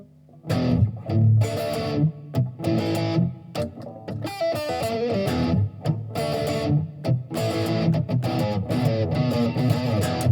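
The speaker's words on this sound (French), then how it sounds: "On peut jouer des choses un petit peu plus rock en changeant un peu le son avec des pédales de distorsion par exemple." An electric guitar runs through a distortion pedal, playing rock chords and riffs with a saturated, gritty tone; strummed bursts and short pauses recur across the passage at a loud, steady level with no voices.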